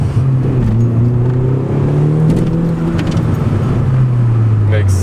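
A Mini Coupé Cooper S engine pulls under partial throttle, a steady rising drone with a brief dip as revs shift, heard from the cabin and loud, with a person speaking over it.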